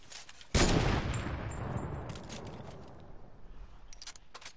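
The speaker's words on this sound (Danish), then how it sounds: "Det er tre skudd." A single loud gunshot from the video game Fortnite cracks out sharply and rings into a long decaying tail, followed by faint, scattered clicks and pops near the end.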